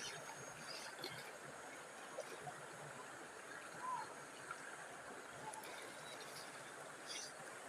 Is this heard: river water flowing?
yes